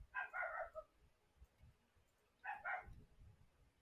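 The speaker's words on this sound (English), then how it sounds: "That's my dog." A pet dog named Mao gives two short pairs of barks or yips, at some distance and moderately loud, over a low rumbling background.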